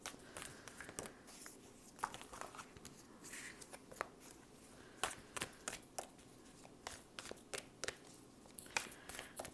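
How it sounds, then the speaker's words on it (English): Tarot cards being shuffled by hand close up, a quiet run of irregular riffling and slapping taps repeating throughout. "I like to shuffle on camera"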